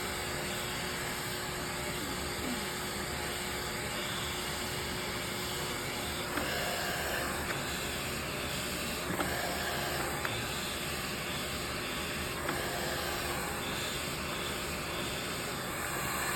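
A steady, continuous airy roar of a blow dryer styling hair runs throughout at constant volume, with faint occasional clicks underneath.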